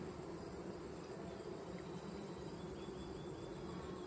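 Honey bees buzzing at an open hive during a mite test, a steady dense drone that continues evenly throughout, close and fairly quiet, with no voices.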